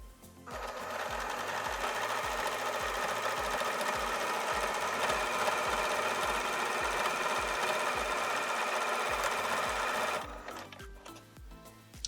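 A sewing machine runs steadily for about ten seconds, stitching binding onto a pleated fabric face mask with a fast, even mechanical whir, then slows and stops near the end.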